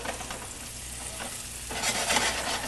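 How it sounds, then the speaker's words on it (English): Bread fries butter side down in a hot pan, a steady crackling sizzle that grows louder and brighter as it settles into the butter. "Butter side down into the pan. Hear it?"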